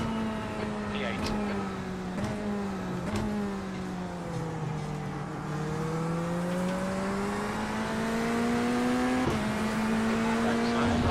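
Race cars roaring around a track in a sim racing game, a steady loud engine drone rising and falling in pitch with gear changes, other cars buzzing nearby throughout.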